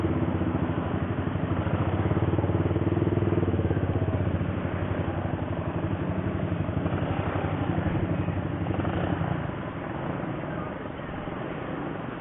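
An overheated motorcycle engine runs steadily and close by, a low rumbling drone that holds loud for about nine seconds before easing slightly, with no clear revving peaks.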